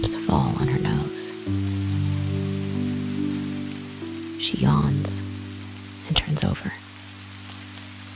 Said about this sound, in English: The sound of the rain makes her feel calm and safe.